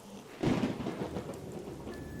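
A low rumble of thunder rolls in over steady rain falling on a surface, fading into continuous patter.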